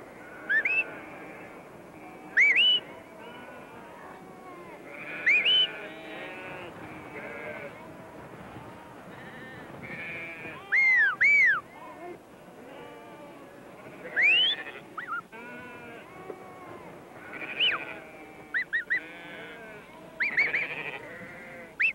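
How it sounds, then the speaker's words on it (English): Sheep bleat repeatedly in a flock while a shepherd gives short, sharp whistles to his sheepdog. The whistles rise in brief bursts over a steady background of bleating and rustle. "Listening to the whistles of his master, he guides the flock wherever the shepherd wants him to"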